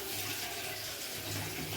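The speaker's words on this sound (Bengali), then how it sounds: "কড়াইয়ের মশলাটা ভালো করে জল দিয়ে নেড়ে নিয়ে জলটাই এই মাংসের প্রেশার কুকারের মধ্যে দিয়ে দিতে হবে।" Water being poured from a wok into a pressure cooker of mutton, a steady close rushing splash lasting throughout with no voices.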